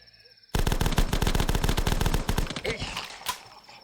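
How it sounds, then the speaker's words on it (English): Rapid automatic gunfire from The Last Stand, a Flash browser game, bursts in as a dense run of sharp evenly spaced shots for about two seconds, then thins into scattered reports and echoes, loud and close with no talking. "You can shoot, you can aim up there, shoot, and the bullets will only fire up to here."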